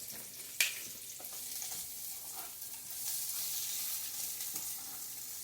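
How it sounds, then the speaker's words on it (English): Onions sizzle in oil in a pan, a steady bright crackling hiss close by, with a brief sharp clink near the start and the sizzle swelling slightly later. "You can already hear it sizzling."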